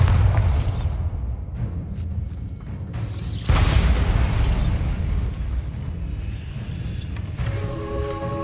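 A Bombarda blasting spell in Hogwarts Legacy goes off with a broad rushing burst, one big blast near the middle and lighter whooshes before it, over a steady game ambience with a faint chime at the end.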